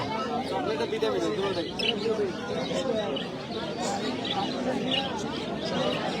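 Pigeons and small birds at a crowded outdoor bird market in Narsingdi give thin chirps and chatter under steady crowd babble and people talking nearby.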